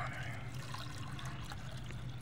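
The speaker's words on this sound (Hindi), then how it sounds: "पानी मैंने इधर डाल दिया है जी" Water trickles and pours steadily into a bowl set out for plants in hot summer weather in Toba Tek Singh, a continuous close liquid wash alongside low background noise.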